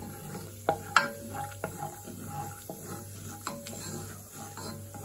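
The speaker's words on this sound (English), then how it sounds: "First we are going to put cashew nuts in the ghee." Cashew nuts frying in ghee in a pan, a steady low sizzle with a few sharp pops and crackles scattered throughout, close by and moderately quiet, with no voices.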